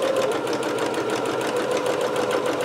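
A sewing machine runs a straight seam on a McCall's M6701 dress, a close, steady, fast whirring rattle with no pauses.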